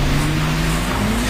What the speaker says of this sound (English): It's not long before the car's out on the track.